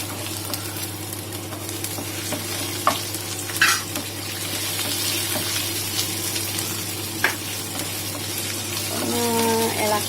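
Ginger and green chili frying for vermicelli upma, a constant soft sizzle with occasional scrapes of a stirring spoon against the pan, close by under a steady low hum.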